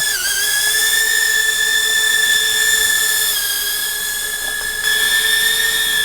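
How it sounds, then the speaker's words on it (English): High-pitched, steady whine of the propellers of a small sub-250 g Huma 20 FPV drone spinning close by, a sustained tonal hum with bright harmonics and slight pitch shifts, no talking. "So that's the sound of the props."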